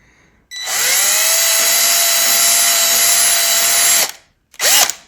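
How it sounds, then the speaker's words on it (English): A power drill bores through a plastic motorcycle auxiliary light bracket, giving a loud, close, steady high whine for several seconds. It stops abruptly and is followed by one brief second burst. "we'll just drill the other side to make sure it's nice and smooth"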